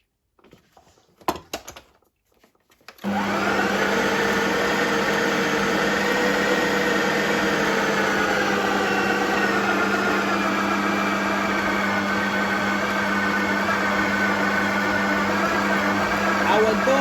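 Ninja blender mixing homemade pizza dough with warm milk, kicking on after a few seconds of quiet handling noises and holding a loud, steady motor whir to the end.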